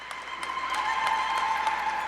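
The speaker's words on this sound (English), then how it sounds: "Give these leaders a round of applause." Audience applause for honored leaders at a Native American Heritage Night celebration, steady and sustained clapping filling the space at moderate volume with no break, the crowd sounding fairly close.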